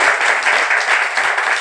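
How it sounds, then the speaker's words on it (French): A studio audience applauds during a French television talk show, a dense, loud, even burst of clapping that continues steadily without voices. "Vous pouvez applaudir à nouveau."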